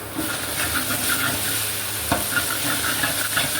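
Chicken fries with ginger garlic paste in a pan and is stirred, giving a loud, steady sizzle with occasional scraping stirs up close.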